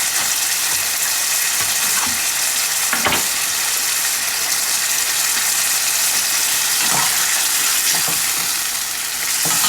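Potatoes fry with spices and green chili in a pan, a loud, steady close-up sizzle with occasional scraping stirs and brief bursts of spitting oil, and no voices.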